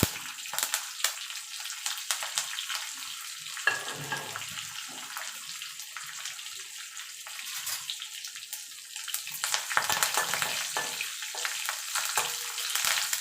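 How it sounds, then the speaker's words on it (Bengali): Black mustard seeds, slit green chillies and curry leaves frying in hot oil as a tempering for dhokla: a close, crackling sizzle with rapid popping spatters that swell and ease over several seconds. "কালো সর্ষেটা একটুখানি চটপট করে উঠলে এবার দিয়ে দেবো কাঁচা লঙ্কা"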